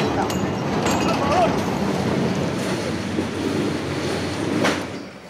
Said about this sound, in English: Suddenly, the train grinds to a halt in the middle of the countryside.